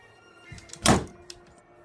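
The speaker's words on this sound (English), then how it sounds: "The door to the room slammed shut" A door slamming shut as a horror-story sound effect, with a single loud, close thud, a faint knock just after, and quiet room tone around it.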